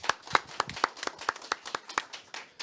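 A small audience at the Korean Government Employees' Union joint debate for its 12th officer election gives sparse, distinct handclaps. They come as separate, fairly regular claps rather than a dense roar and stay moderately quiet.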